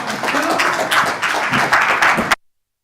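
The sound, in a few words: audience applause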